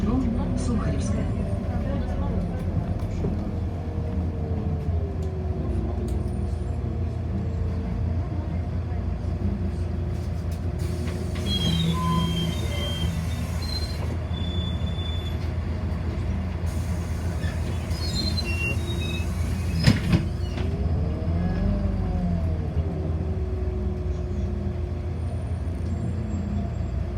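Moscow city bus M9 rides through the city with a continuous low engine and road drone inside the cabin, with occasional squeals and hisses and a brief clunk, while an automated voice announces stops.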